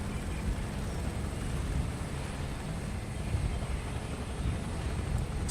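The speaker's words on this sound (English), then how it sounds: "that Airbus helicopter sounds so good." Airbus helicopter engine in Microsoft Flight Simulator 2024, parked by a lake before takeoff, gives a steady, loud, unbroken whine and rumble that holds at an even level throughout with no talk.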